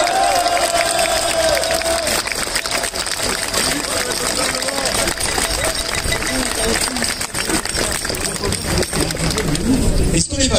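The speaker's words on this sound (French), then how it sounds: "On peut encore une fois l'applaudir." A crowd at an outdoor street protest against government measures applauds and cheers in a dense, continuous roar that holds at full strength with voices mixed in.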